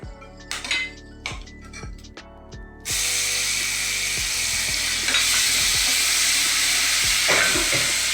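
Whole spices, then ginger-garlic paste, hit hot oil for a Maharashtrian brinjal rice, with a few clinks of a utensil against the pan before a loud, steady sizzle takes over and keeps going with occasional stirring scrapes.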